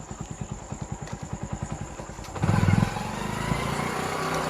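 A motorcycle engine putters with an even, rapid thumping idle close by, then revs up into a louder, rougher roar that carries on to the end, with no talking over it.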